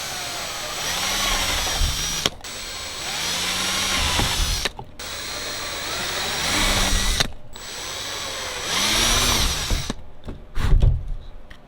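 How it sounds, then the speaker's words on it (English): A power drill boring holes through a cargo van's metal roof for solar panel mounts, loud and close, with long whining runs that rise and fall, separated by brief pauses and ending in a few short bursts. "So I got my 4 holes drilled."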